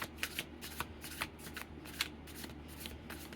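Tarot cards are shuffled close by in a run of quick papery riffles and flicks with a steady irregular rhythm. They are soft but clear, with no speech over them.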